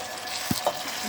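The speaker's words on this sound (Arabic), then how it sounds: "بصوا بدأت البصل يكرمل معايا ازاي" Chopped onions frying and caramelizing in a cooking pot for a kebab stew, giving a soft continuous sizzle with a couple of brief stirring knocks, close and alone.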